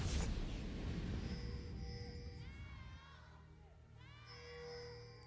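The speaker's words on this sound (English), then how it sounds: "And that crowd has some energy, Raz." A large crowd at an LPL esports playoff venue roars and cheers, loudest at the start before easing to a softer murmur under a commentator's voice.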